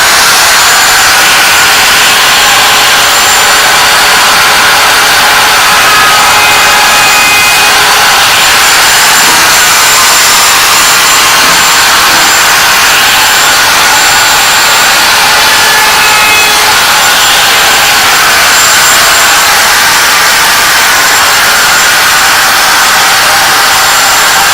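A router cuts wood for cabinet assembly, making a continuous, very loud high whine that holds steady for the whole stretch with no pauses.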